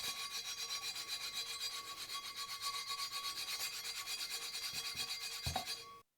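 Old emery board nail file scraping rust off an iron pot lid: a fast, rhythmic back-and-forth rasping, close and steady for about six seconds before stopping, with no talk.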